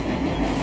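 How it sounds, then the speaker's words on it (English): A train rushing past at full speed: a loud, steady rumble of rolling wheels and wagons, close and continuous, with no voices. "Full speed train."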